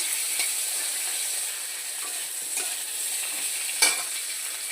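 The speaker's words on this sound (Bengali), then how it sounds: "দিয়ে আলুটাকে কাঁচকলাটাকে একটু ভাজা ভাজা করছি" Potatoes and green banana frying with green chili and cumin in a pan, a steady close sizzle of oil with a few light scrapes and taps of stirring.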